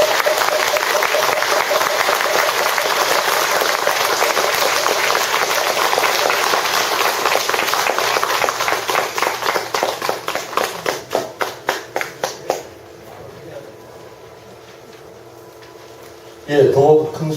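Audience applause at a Korean Buddhist lay association's founding dharma service, thanking a senior monk for his talk: dense, loud clapping that thins into scattered claps and fades near the end, followed by a brief burst of sound.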